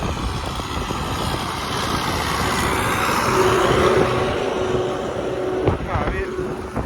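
A tractor ploughs a soybean field, its engine droning steadily and loudly throughout with wind buffeting the microphone and a brief clank near the end.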